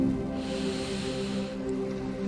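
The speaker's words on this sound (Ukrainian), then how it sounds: "вдих через ніс" A slow, steady inhale through the nose during a guided meditation, a soft breathy rush lasting about a second over a low sustained musical drone.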